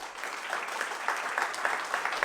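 A live podcast audience claps together, a dense crackle of applause that swells in short pulses over a couple of seconds, moderately loud and without talk.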